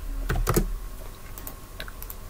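Keys on a computer keyboard are tapped in a quick burst of close clicks, typing a git clone command, followed by a few scattered keystrokes in a quiet room.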